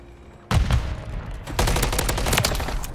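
Rapid automatic gunfire from a Call of Duty MW3 ranked match: a dense, close burst of shots that breaks off briefly and then resumes as sustained firing.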